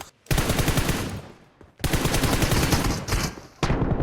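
Sustained bursts of rapid automatic gunfire in a shooter video game, three dense loud volleys separated by brief pauses, with no voices.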